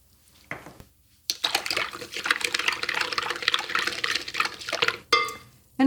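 Yeast going into slightly warm milk in a kitchen, a few seconds of rustling and pouring, then a short clink of a bowl or utensil.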